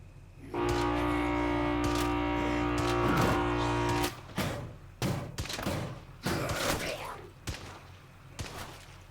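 Gunfire in State of Decay 2, a series of sharp shots and thuds in the second half following a long sustained horn-like tone, fairly close and loud.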